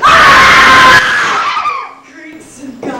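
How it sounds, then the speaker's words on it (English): A loud, sustained scream from performers in a stage production of Danton's Death rings out for about a second, then trails off into quieter voices and stage sounds. "let us scream when we want"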